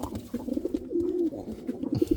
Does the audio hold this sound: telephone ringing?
no